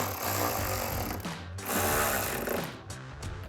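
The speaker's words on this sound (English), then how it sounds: "you tighten this down with your 10mm socket." Fender flare screws on a 2024–2026 Tacoma being driven tight with a 10mm socket on a power tool, a loud continuous buzzing rattle that dips briefly around the middle and resumes, close up.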